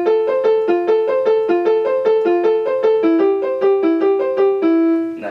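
A second violin plays a steady, repeating accompaniment figure of evenly pulsed bowed notes, alternating between two pitch levels, heard alone, close and clear with no voices.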